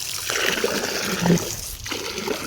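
Water trickles and splashes in short bursts, close by, with a brief gurgle partway through.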